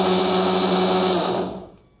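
A kitchen mixer grinder whirs steadily at high speed while grinding dry pearl millet into powder, then spins down and fades out over the last half second.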